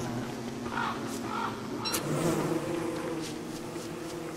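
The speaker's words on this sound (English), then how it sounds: "Ooh, we got some bees here." Bees in the video game Don't Starve give off a steady, droning buzz that holds throughout at moderate volume, with a few faint soft game tones layered over it.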